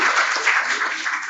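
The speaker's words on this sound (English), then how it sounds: "Can we please have a round of applause for her?" A short burst of dense audience clapping at an inclusive-education roundtable, steady and fairly close, lasting just over a second.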